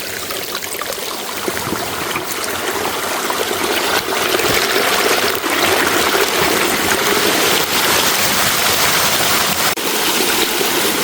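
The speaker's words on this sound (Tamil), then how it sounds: "இங்கே பாருங்க, இது வந்து ஒரு நீரூற்று." Water pours steadily from a natural spring deep in the Vanni forest, a continuous loud rushing and trickling close by with no talking.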